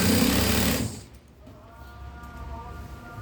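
A sewing machine stitches the hem of a dirac dress in a steady, dense mechanical whir that is loud for the first second, then stops and leaves a quieter room with faint rattles and hum.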